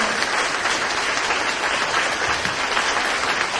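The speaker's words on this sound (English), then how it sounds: "UK Prime Minister with a warm round of applause" A large audience applauding steadily to welcome former UK Prime Minister Liz Truss at a speech in Taiwan, a dense wash of clapping that holds at full volume throughout.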